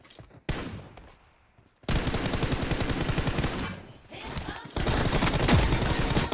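Gunfire in a shooting video game with an M4 rifle mentioned, coming as dense rapid bursts after a brief quieter gap, loud and close, with some voices in the background.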